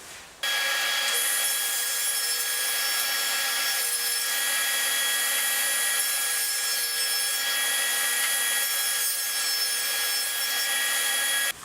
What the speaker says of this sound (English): And cut it into strips again.